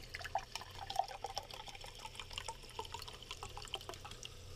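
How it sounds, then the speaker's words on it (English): Talking Rain sparkling water poured and fizzing in a glass: faint, close crackle of popping bubbles with small drips and pings, steady and quiet throughout over a low hum. "it's still bubbling up. That's a lot of carbonation"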